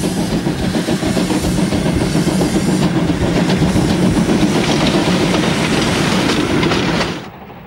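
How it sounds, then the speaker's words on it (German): An express train departs Ulm station toward Friedrichshafen with a loud, close, continuous rumble and rhythmic rail clatter that holds steady for about seven seconds, then cuts off abruptly. "Ausfahrt frei für einen Eilzug aus dem Bahnhof Ulm in Richtung Friedrichshafen"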